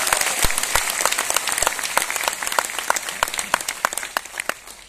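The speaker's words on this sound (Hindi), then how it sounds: "एक बार जोरदार तालियां होनी चाहिए" Loud, sustained applause from a crowd, many hands clapping densely throughout with a few sharp claps standing out.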